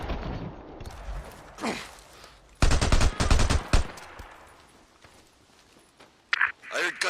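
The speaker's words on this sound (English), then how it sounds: "I heard gunshots." Rapid bursts of gunfire crackle in the video game Days Gone, a dense volley in the middle, mixed with hoofbeat-like clopping and scattered effects.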